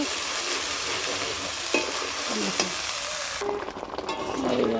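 Chicken curry is stir-fried in a pan, with a continuous loud sizzle and hiss plus occasional spatula scrapes. Near the end the tone shifts as stirring continues.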